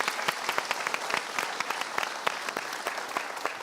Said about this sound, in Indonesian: Kita berikan tepuk tangan untuk dua orang ini.